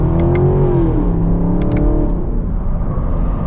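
A 2021 Chevy Camaro SS Convertible with its V8 pulls hard under acceleration, a loud rising engine roar with a climbing whine heard up close, then it settles into a steady rumble.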